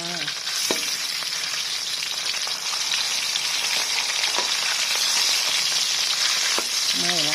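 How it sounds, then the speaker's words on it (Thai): Three pieces of chicken fry in a dark pan over low heat, a loud, steady close-up sizzle with occasional faint utensil clicks and a brief voice in the background. "ทอดไก่นะคะ ดูในกระทะเลยนะคะ"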